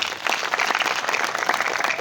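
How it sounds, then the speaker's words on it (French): A church congregation in Dapaong applauds together, a dense, even wash of clapping that holds steady from start to finish at moderate volume. "Applaudissez Christ."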